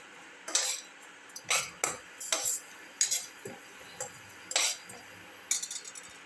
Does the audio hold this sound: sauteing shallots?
yes